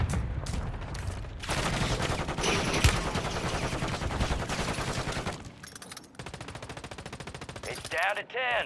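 Heavy Call of Duty gunfire, dense rapid automatic bursts rattling close and loud almost without pause, with a brief lull before more rapid shots resume.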